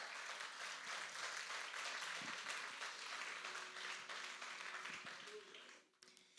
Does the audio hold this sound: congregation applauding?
yes